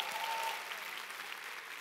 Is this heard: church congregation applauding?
yes